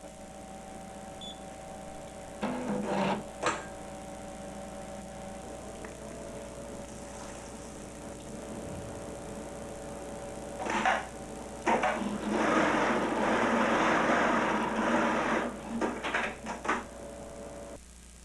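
A Juki AMS-210B programmable pattern sewing machine runs a test-sewing cycle, with clunky mechanical knocks and whirring bursts that come and go, then a longer busy stretch of motor and feed movement, fairly loud and close.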